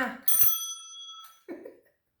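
A small hand bell rings twice, a bright ringing strike that lingers and fades, then a softer second jingle, heard faintly on its own.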